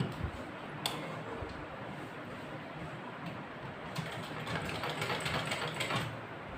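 A sewing machine stitches a frilled cover cut from an old saree for a Godrej steel almirah, running as a steady close mechanical whir with a brief knock early on and no voice over it.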